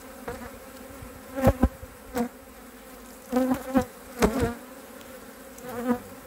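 Honeybees from a hive in an apiary buzz around close by, with several louder passes as individual bees fly near and away over a steady low hum.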